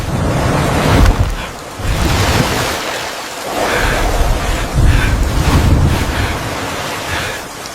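Sea waves surge and break continuously near the shore, with swelling washes of surf and steady wind noise across the microphone, loud and unbroken throughout.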